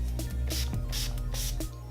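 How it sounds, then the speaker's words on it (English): Urban Decay All Nighter setting spray is misted onto a made-up face in three or four short, close hissing bursts, each preceded by a small mechanical pump click. "set the foundation and concealer with the Urban Decay All Nighter Setting"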